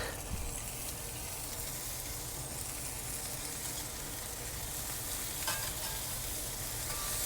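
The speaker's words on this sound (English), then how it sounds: "let's flip them back over and give them a poke" Chicken pieces flipped and cooking directly over hot charcoal, giving a steady, dense sizzle and crackle that holds evenly throughout, close and loud, with no talking.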